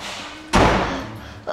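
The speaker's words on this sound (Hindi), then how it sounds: "हमारा दरवाजा बैंक हो गया" A door slams shut in the wind in a new home, one sharp loud bang with a short fading rumble after it over faint background noise.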